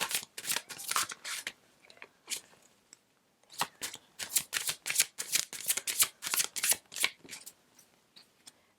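Tarot cards shuffled by hand in a steady run of crisp riffling bursts, near and clear, with a short pause partway through before the shuffling resumes.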